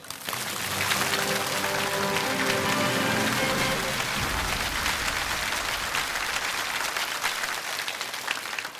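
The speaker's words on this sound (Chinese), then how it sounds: "那么接下来就让我们掌声有请薛校长为我们开讲" A studio audience at a televised lecture gives sustained applause to welcome a speaker onto the stage, a dense, even wash of clapping with music fading out under it early on.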